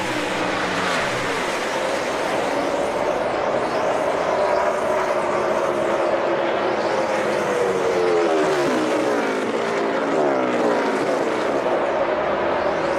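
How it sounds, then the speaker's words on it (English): NASCAR stock cars race through the final lap at Pocono, a loud continuous engine roar with a pitch that slowly sweeps and shifts as the field passes, steady and dense throughout with no talk. "We go to the final lap."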